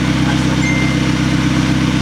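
A swapped engine in a McLaren runs steadily with no exhaust fitted, giving a loud, continuous low idle drone close by throughout.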